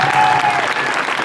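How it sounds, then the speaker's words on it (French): An audience claps steadily in a cinema during a film preview event, a dense, continuous wash of applause that stays loud throughout with no voices on top. "vous pouvez les applaudir très fort"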